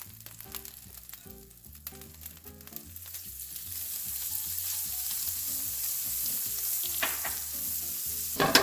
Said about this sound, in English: in this skillet, I am going to add some butter so that we can go ahead and cook the veggies